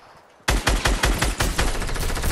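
Rapid automatic gunfire from an enemy spraying in a video game, a loud burst of closely spaced shots that starts abruptly after a quiet moment and keeps rattling without pause.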